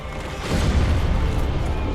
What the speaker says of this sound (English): A couple explosions.